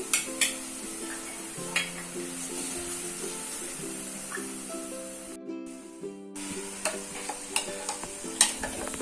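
Ginger pieces fry in oil for Schezwan sauce, a soft continuous sizzle with light stirring taps over a steady tonal hum, with a short dropout midway.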